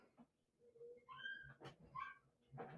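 A female dog whimpers softly indoors, making a few thin, high whines and short yips, faint and close, with light background noise and no talking.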